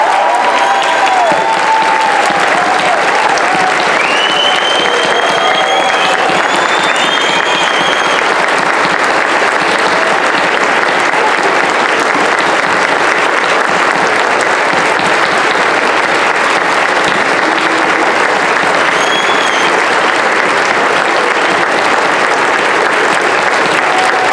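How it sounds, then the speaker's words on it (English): Sustained audience applause at a U.S. Army ceremony installing a new brigadier general as dean at West Point, steady dense clapping filling the hall for over twenty seconds with a few faint voices and whistles mixed in. "Ladies and gentlemen, please join in a round of applause for the newest general in the U.S. Army, Brigadier General Cindy R. Jebb."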